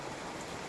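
Rain falls on crops in a field, a close, even hiss of drops with no break.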